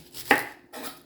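Knife cutting the skin off an onion on a board, a single sharp tap of the blade followed by a softer scrape, close and clear with no voices.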